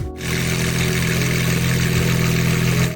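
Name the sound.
V12 supercar engine running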